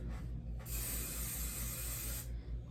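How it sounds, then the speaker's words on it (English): A spray bottle mists water down over braided hair in one steady, close hiss lasting under two seconds, framed by quieter room noise, with no talking. "So now I'm gonna spray all the excess down"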